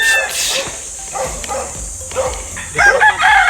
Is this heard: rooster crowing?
yes